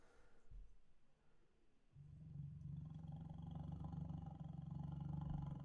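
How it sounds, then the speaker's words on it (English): A deep, low tiger growl rumbles in after a brief quiet start, building into a sustained heavy roar that stays steady and close to the end. "tiger growl similar, and another alligator, just heavier."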